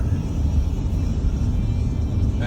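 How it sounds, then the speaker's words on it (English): A 2018 Toyota RAV4 picks up speed to around 45 mph on an open road, heard as a steady low rumble of engine and tyres from inside the cabin, moderately loud and unbroken. "our vehicle is currently accelerating itself up, and right now it is going, well, about 45 miles an hour"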